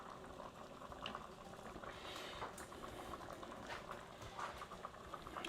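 Thickening Thanksgiving sauce bubbling and simmering steadily as it cooks down, a soft continuous patter of small pops and gurgles with occasional brighter bursts, close and fairly quiet with no talking.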